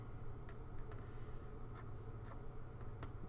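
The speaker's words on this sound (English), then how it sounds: "let's go ahead and write the equation one more time" Marker or pen writing out an equation by hand on a board, a steady scratching with short strokes and taps, close and continuous over a low background hum.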